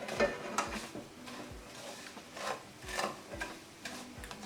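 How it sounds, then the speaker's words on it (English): Vermicelli frying in a pan for sheer khurma on a low flame is stirred in quick, rhythmic scraping strokes, with a soft sizzle underneath each pass of the spoon. "We need to fry these vermicellis till they turn a bit golden brown"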